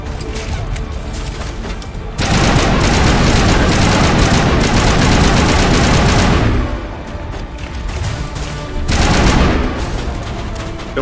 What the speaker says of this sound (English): That's a shotgun.